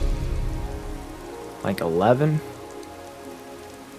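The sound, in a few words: rain weather in Skyrim video game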